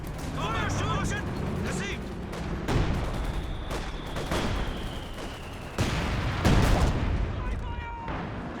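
Machine gun fire and heavy battle noise in the tank-filled strategy game Company of Heroes 2: rattling bursts and booms overlap through the scene, punctuated by louder impacts near the end.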